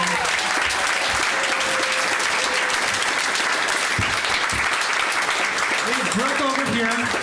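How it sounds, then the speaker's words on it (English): A class audience at an evening event breaks into dense, sustained applause that fills the whole stretch, with faint voices underneath. "just give her a round of applause for that last time"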